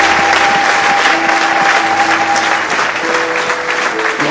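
A church congregation claps together in loud, sustained applause that fills the room evenly throughout, with a faint hum of crowd voices beneath.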